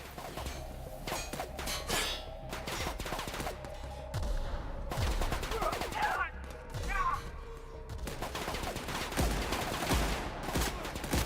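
Gunfire from The Outer Worlds, repeated shots and clanging impacts scattered across a busy game soundscape with music and effects, no clear steady bursts, with talk woven through.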